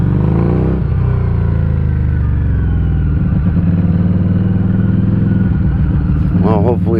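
Harley motorcycle engine running while riding, a loud steady low rumble close by throughout, with wind noise and a voice talking over it near the end.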